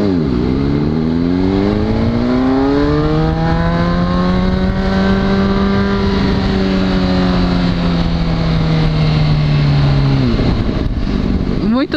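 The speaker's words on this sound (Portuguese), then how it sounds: "porque tá bombando o acelerador." A Jaguar XJ6 engine revs hard and steadily as the accelerator is pumped, a loud, close, sustained roar that climbs in pitch, holds, then drops near the end.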